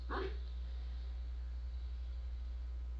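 A dog barks in a courtroom video game, a short burst of yips near the start before a low steady hum fills the rest.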